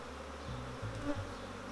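Honeybees at a hive in an apiary, a low steady buzzing drone with shifting pitch from many insects close by, continuous throughout with no voices.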